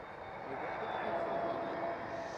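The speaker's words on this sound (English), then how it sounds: "Next one up, KLM A321 Neo." A KLM Airbus A321neo at Schiphol Amsterdam gives a steady, broad jet-engine roar at moderate distance, with a faint whine above it; the sound holds for a couple of seconds and a voice talks over it.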